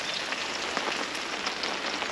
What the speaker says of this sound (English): So it's raining, but we knew it was coming